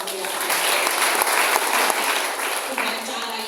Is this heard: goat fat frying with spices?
no